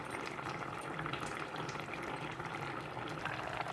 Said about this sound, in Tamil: இப்போ நாங்கள் புளி விடுவோம்